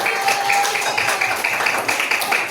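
A class of third-grade pupils clapping hands together in a classroom, a dense, steady patter of many claps running throughout, with children's voices mixed in underneath.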